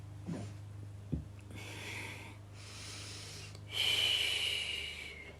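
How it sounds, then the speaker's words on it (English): During a calm yoga stretching session, slow breaths are drawn in and pushed out through the nose, soft airy hisses close to the microphone, the last exhale stronger and longer, with a faint low hum underneath. "Keep that breathing going. In and out through the nose."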